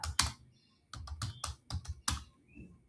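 Rapid bursts of typing on a computer keyboard while entering Django template code, close and clear, with irregular clusters of keystrokes separated by short pauses and no talking.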